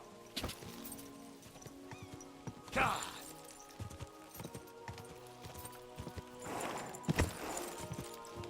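Horse hooves clip-clop unevenly in Kingdom Come: Deliverance II, with soft game sounds and a couple of louder thumps mixed in.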